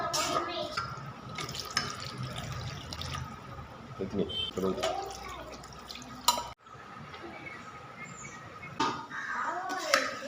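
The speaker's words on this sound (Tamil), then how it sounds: "நாலரை கிளாஸ் தண்ணி வைக்கிறேன்" Water is poured into an electric rice cooker for chicken biryani, a continuous splashing, trickling flow with faint voices and kitchen noise around it and a brief break partway through.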